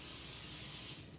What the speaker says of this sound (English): We're just gonna give this a little spray.